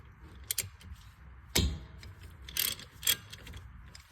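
Wrench turning 14 mm brake caliper bolts on the front brakes of a 2018-24 Toyota Camry, giving a few close metallic clicks and ratcheting clanks spread across a few seconds, with quiet gaps between.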